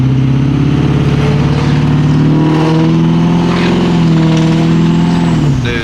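A built Ford 6.0 Powerstroke diesel engine revs through the gears while driving, a loud, continuous low rumble whose pitch climbs and falls with each shift, turbo whine faintly on top, with no talking.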